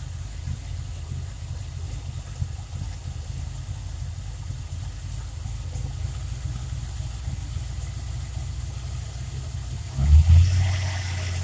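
A Ford Mustang Fox Body engine idles steadily up close with a low, even rumble, then its idle is raised briefly by hand near the end, bringing a short swell in loudness.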